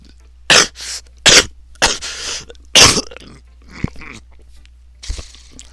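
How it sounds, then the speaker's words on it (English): A person coughs several times in harsh, raspy bursts with short pauses between, and the last coughs are weaker. "Ugh, that awful cough."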